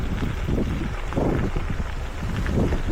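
Steady wind rushing past a cyclist on a gravel rail trail ride from Wellington toward Featherston, a constant broadband roar with gusty swells close to the microphone, no talk.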